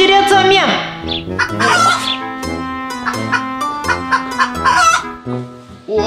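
Chicken clucking and crowing inside a restaurant, loud and close, with busy overlapping calls and rising crow-like tones filling the whole stretch.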